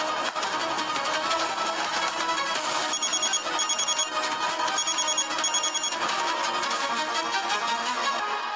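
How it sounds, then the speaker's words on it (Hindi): An electronic phone ringtone chirps in repeated short bursts over a loud musical background, with no talking. "लो, विक्रम, तुम मेरा फोन क्यों नहीं उठा रहे थे?"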